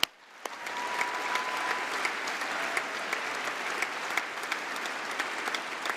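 Large hall audience at the Labour Party conference breaking into sustained, dense applause, steady and loud with a few sharper individual claps standing out.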